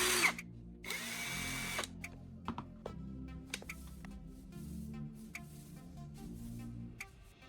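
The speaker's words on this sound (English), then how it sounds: "I'm using the metal file again to shape its tip." A metal file shapes the tip of a carbon rod, a bright, close rasping burst followed by a longer stroke, then light scattered scrapes and clicks over a low hum, with no talking.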